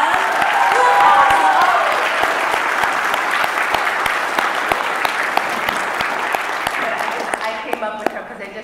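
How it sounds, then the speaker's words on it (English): A convention crowd at a fan expo in Boston breaks into loud, sustained applause for a fan's mother. The clapping is dense and steady, then thins out near the end, with some voices in the room. "Let's give this mom a round of applause."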